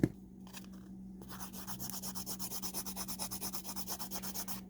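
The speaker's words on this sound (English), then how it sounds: "This one won't take as much filing because it's not as thick." File rubbing back and forth across an acrylic nail with encapsulated glitter, a quiet close scratchy rasp in a steady even rhythm of quick strokes, alone without talking.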